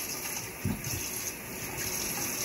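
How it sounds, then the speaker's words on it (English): Water runs steadily from a faucet into a sink during a cat's bath, a constant close gushing hiss with a brief low thump partway through and no talking. "she really doesn't like the sound of the running water"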